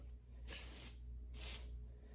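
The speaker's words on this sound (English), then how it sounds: "All you're gonna do is just spray the silicone over the tires, the chassis, all that kind of stuff." Two short bursts of silicone cleaner hiss from a spray can onto a dirty RC car's tires and chassis, each spray lasting about half a second, close and crisp.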